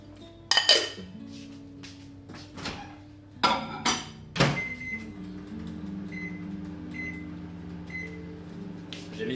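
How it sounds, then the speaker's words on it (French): A covered bowl of chocolate is set into a microwave oven: sharp clinks and knocks of dish and door, a few firm thumps, then beeps as it is set and the steady hum of the oven running. "Ça, hop, je vais le mettre au micro-ondes, mais on va le couvrir"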